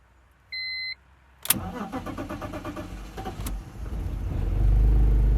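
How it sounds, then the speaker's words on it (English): A BMW E46 Compact is started after sitting unused for a while: a brief electronic beep, then the starter cranks and the engine catches, settling into a rising, steady idle, close and fairly loud. "Now, the real question is, will the car start?"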